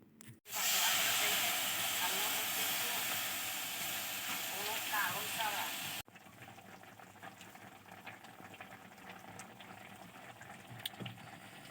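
Grated carrots with cardamom fry in a pan, giving a loud steady hiss that drops suddenly halfway to a quieter, continuous sizzle with light stirring clicks.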